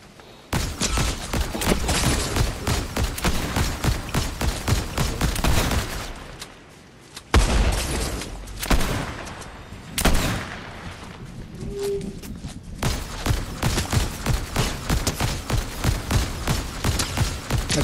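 Dense, continuous gunfire from an online multiplayer shooter fills the scene, rapid overlapping shots and bursts roaring loud and close, broken by a brief lull and a few heavier booms before the barrage resumes.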